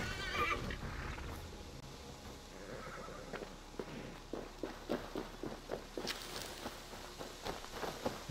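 Horse in the Assassin's Creed Valhalla video game, a close whinny at the start followed by a run of hoof clip-clops that grow steadier and louder toward the end, with no talk.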